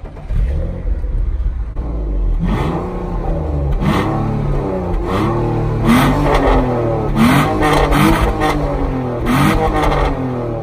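A BMW E46/E36 drift and track build with a stainless exhaust manifold starts up and revs repeatedly, rough and loud, with rhythmic surges of exhaust noise up close.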